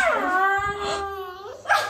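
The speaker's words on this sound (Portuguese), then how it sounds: "Tá uivando já." A dog lets out a long, wavering howl close by, sliding down in pitch, followed by a brief higher whine.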